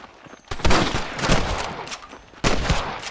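Gunfight in the Western video game Red Dead Redemption, with loud, overlapping gunshots in rapid bursts and a sharp new volley near the end, dense like a fusillade.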